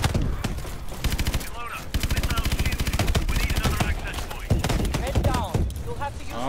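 Rapid sustained automatic fire from a chain gun in the shooter game Call of Duty Advanced Warfare, loud and continuous with brief gaps, layered with explosions and battle noise; someone talks over it.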